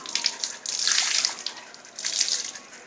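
Water poured out of a container at home, a loud splashing, gushing flow in two bursts with a brief lull between, close and with no talk.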